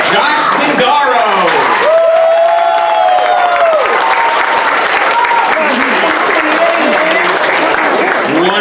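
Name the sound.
applause at a 6th grade moving up ceremony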